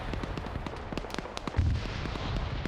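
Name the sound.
explosions in a video game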